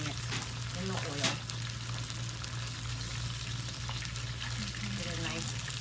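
Shrimp frying in hot oil for salt and pepper shrimp, a steady close sizzle with occasional stirring clatters, continuous throughout with a voice speaking briefly over it.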